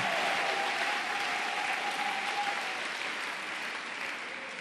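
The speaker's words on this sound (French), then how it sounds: "Clap offering to the Lord Jesus." A church congregation claps as an offering to the Lord Jesus, a broad, steady burst of applause sustained for nearly five seconds and tapering slightly near the end.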